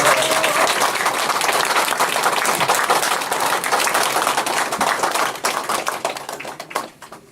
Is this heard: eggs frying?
no